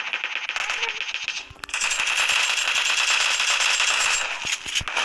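Sustained automatic gunfire in the PUBG Mobile zombie mode, a dense rapid rattle of shots that pauses briefly and then resumes in a long loud unbroken burst, with a few sharper single cracks near the end.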